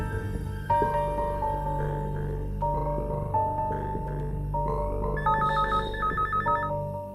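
A telephone rings during a scene from a Kannada film, its melodic electronic ringtone repeating in short bright bursts near the end over steady background sound.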